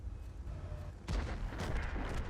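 A single heavy tank cannon shot from the Object 705A in a tank battle video game, a sudden loud boom after a quieter stretch, followed by rumbling low-end echo that stays up to the end.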